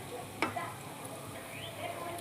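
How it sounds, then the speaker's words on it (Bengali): Palm fruit fritters made with coconut, fennel, jaggery, sugar and semolina fry in hot oil, giving a faint, steady sizzle with one brief sharp tick near the start. "ভাজছি তো, কত সুন্দর হচ্ছে দেখো"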